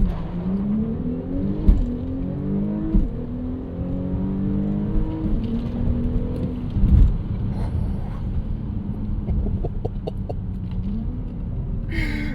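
A 2025 Audi SQ5 with a turbo V6 launching hard under launch control, engine note rising steadily through the revs with gear changes, loud and close, rumbling and continuous for the whole run.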